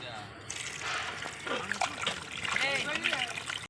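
Quail meat is washed and sloshed in water, with splashing and trickling close by that grows busier toward the end, alongside faint background voices.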